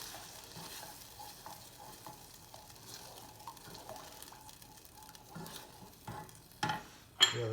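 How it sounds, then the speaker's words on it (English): Canned tomato is stirred in a pan during a mozzarella in carrozza recipe: a soft, steady scraping and faint sizzle, quiet and close, with a few sharper clinks and a louder scrape near the end. "Quick stir."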